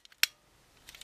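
The spring-charged shutter of a primitive homebrew stereo camera fires with one sharp, close metallic snap, followed by faint small clicks.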